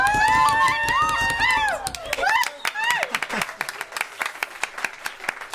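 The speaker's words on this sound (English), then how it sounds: "I can't believe that got clapped" Audience at a live variety show breaks into clapping after a fire-eating act, the claps starting under a voice exclaiming and then continuing as dense, steady applause that thins toward the end.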